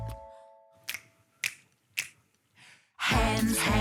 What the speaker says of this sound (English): Can you make your fingers go snap